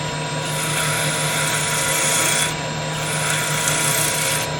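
Close, continuous scratchy rasping of 120 grit sandpaper shaping a wooden box, steady and loud with brief dips in the strokes and no voices.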